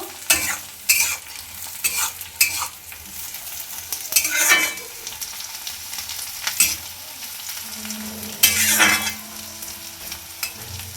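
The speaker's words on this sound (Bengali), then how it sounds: "পেঁয়াজ আমার হালকা ভাজা হয়ে গেছে এবার দিয়ে দেব কুচিয়ে রাখা বেগুন বেগুনটাকেও একটু হালকা" Chopped eggplant stirs and fries in a pan with lightly fried onion, a steady close sizzle broken by repeated scraping strokes of the spoon throughout, with no voices.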